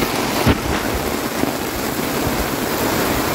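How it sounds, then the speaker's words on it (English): Steady rain falls outside at a campsite, a dense even hiss that fills the whole moment without a break. "It's raining good."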